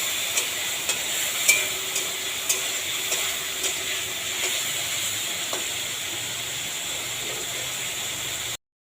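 Vegetables sauté in a pan for an eggplant fritter curry, giving a soft, steady sizzle with faint periodic clicks of stirring against the pan, close and quiet, with no talking.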